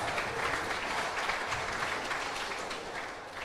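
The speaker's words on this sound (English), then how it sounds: "let's have a huge round of applause for all the players, our winners and runner-ups" The audience at the finals of the HCL Squash Tour in Indore, 2024, applauds the players in a dense, continuous wash of clapping that holds steady and then eases slightly toward the end.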